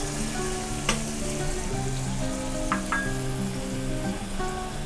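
Two medium onions, finely sliced, fry in oil for chana pulao, giving a continuous bright sizzle with a few utensil clinks. A steady, tonal hum from music or a nearby appliance runs underneath, and nobody speaks.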